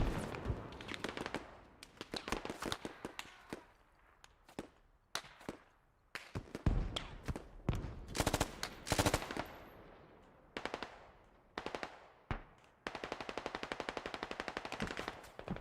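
Repeated bursts of automatic machine-gun fire in the military shooter Squad, rattling in rapid strings of shots with short pauses between them, loud and close, with some heavier blasts mixed in.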